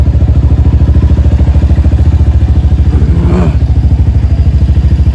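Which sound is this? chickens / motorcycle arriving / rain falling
motorcycle arriving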